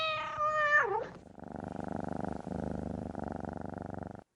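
A cat gives a short rising meow, then settles into a steady, close purr with an even rhythm that continues for several seconds before stopping.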